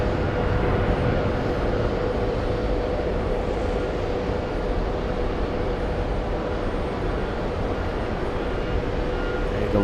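An Airbus A350 airliner at JFK Airport gives a steady, loud broadband roar of jet engines, holding evenly throughout with no clear rise or fade.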